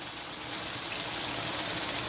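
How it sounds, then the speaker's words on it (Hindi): Water pours into a pot of simmering chicken shorba curry, a steady close gushing splash that holds evenly and swells slightly toward the end, with no talking. "अब इस वक्त मैं इसमें पानी ऐड करूँगी"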